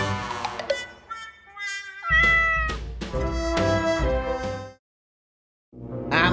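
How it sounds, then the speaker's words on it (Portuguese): A cat meows several times in a row, loud and close, with drawn-out tonal cries, a brief silent gap, then another meow starting. "É, cara, é um gato."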